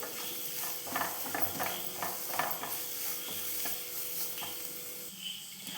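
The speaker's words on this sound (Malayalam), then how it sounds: "ഇത്രയും ചേർത്ത് നമുക്കിതൊന്ന് വഴറ്റിയെടുക്കാം." Ground fennel and turmeric being sautéed in an aluminium pot, with a soft steady sizzle and a string of scraping, stirring strokes against the metal, fairly close and with no one speaking.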